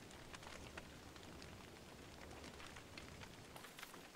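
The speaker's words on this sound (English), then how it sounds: "Unfortunately, the rain probably means it's going to go out faster." Steady rain falls in the Don't Starve video game, a dense even hiss with scattered droplet patter that fills the scene without any voice on top.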